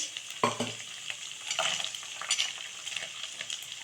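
Onions and ginger-garlic paste sautéing in a hot pan, a close, continuous sizzle broken by a few scraping stirs of a utensil against the pan, with no voices.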